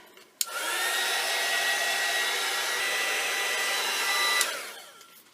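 A handheld hair dryer blows steadily for about four seconds to dry paint on a vintage-inspired assemblage box, switching on with a click and cutting off cleanly, loud and close with no talk.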